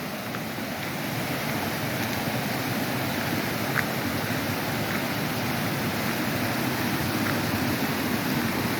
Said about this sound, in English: You've got water rushing down here, down the mountain, into the river.